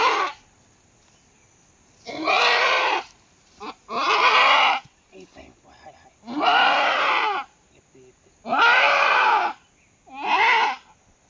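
Goats in a semi-enclosed goat shed let out five loud, drawn-out bleats, each about a second long and separated by quiet gaps with small shuffling noises.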